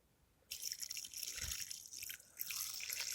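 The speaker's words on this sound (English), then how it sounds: "watering onto the brick so that I don't disturb anything that might be below the water." Water poured from a watering can splashes steadily onto a brick on a garden allotment plot, a close, continuous trickling spatter that briefly eases before picking up again.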